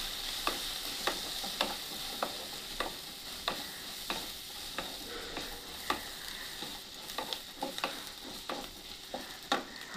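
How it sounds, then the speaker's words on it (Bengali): Fish and spices stirred in a pan, a soft continuous sizzle broken by a steady series of light scraping taps from the spatula, repeated roughly every half second, fairly faint and close. "এবার আমি নাড়াচাড়া করে দেবো"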